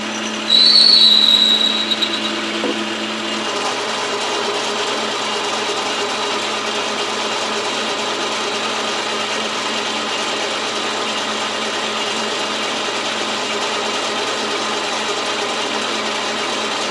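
Gears whir on a machine cutting a regulator plenum for an FX Dreamline Lane air rifle, a steady mechanical drone with a brief louder whine near the start, then an even, continuous hum.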